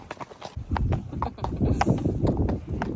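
Horse hooves clip-clop at a steady walking rhythm while riding around a farm, loud and close over a low rumble of movement.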